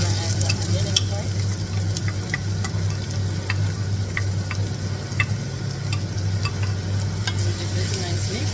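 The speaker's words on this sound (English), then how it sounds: "Mustard seeds have started spluttering. I'm going to add the onion inside." Onions tipped into hot oil where mustard seeds are spluttering: a steady close sizzle with scattered sharp pops and crackles throughout, no voices.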